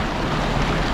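Rushing water and churning waves at a dam, a steady loud roar of turbulent flow with a wind-buffeted, noisy texture and no pauses.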